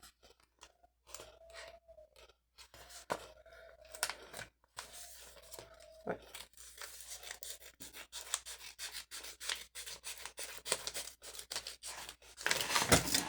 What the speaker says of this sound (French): On va y aller au ciseau, ça sera plus pratique